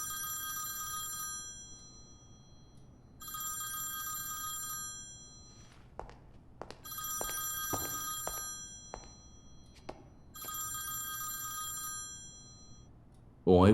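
A telephone rings in repeated double-burst electronic trills, four rings with pauses between them, fairly quiet indoors, with scattered thumps and soft voices in the gaps.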